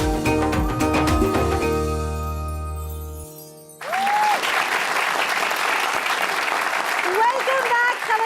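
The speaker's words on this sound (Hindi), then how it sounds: "तालियां होनी चाहिए भाई" An Eid special TV show audience breaks into dense, loud applause that continues steadily after music fades out, with a sustained tone sliding across it.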